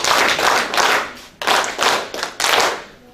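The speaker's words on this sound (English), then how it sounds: "So let's give a hand clap to ourselves." A room of workshop participants claps together in unison, three loud bursts of rhythmic hand claps in quick succession with short gaps between them, no talking over it.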